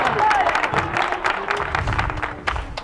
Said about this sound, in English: You can hear the crowd is getting behind Ntunga